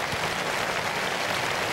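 An audience applauds at the Eurovision Song Contest in Luxembourg in 1981, a dense, even wash of clapping that holds steady throughout.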